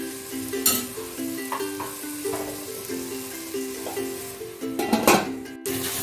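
Tomato pieces sizzle and fry in a pan for egg pulao, a steady close crackle with occasional stirring clatter and clinks of a utensil, while a tonal background hum runs underneath.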